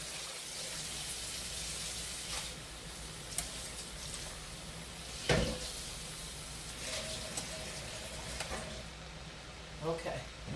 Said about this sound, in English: Let me rinse it off.